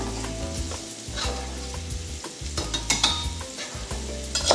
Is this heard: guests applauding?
no